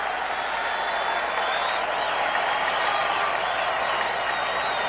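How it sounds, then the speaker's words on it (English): Crowd at a 1979 World Series Game 6 baseball stadium roaring and applauding in a continuous, loud wash of cheering and clapping that holds steady for the whole stretch. "and the crowd is roaring."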